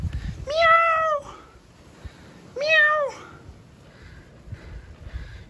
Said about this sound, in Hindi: ये बिल्ली मिली हमें, अरे वाह बहुत ही फ्रेंडली है